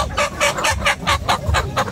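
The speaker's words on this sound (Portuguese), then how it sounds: "Eita, as galinhas bonitas." Chickens at an open-air poultry market in Palmeira dos Índios, Alagoas, cluck loudly and close by in quick, repeated bursts with a choppy, uneven rhythm.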